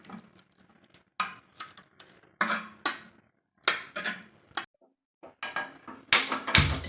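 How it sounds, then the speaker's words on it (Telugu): Cooked dal with amaranth leaves mashed in a pressure cooker with a wooden churner, giving irregular knocks and scraping clatters against the pot, some sharper and louder near the end. "ఇప్పుడు కవ్వంతో కాస్త స్మాష్ చేసుకోవాలి."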